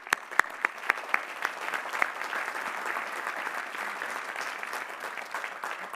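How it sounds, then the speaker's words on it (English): A graduate commencement and doctoral hooding audience breaks into steady, sustained applause, with a few sharp individual claps standing out at the start over the dense wash of clapping. "Please recognize the Doctors of Philosophy with our hearty congratulations and"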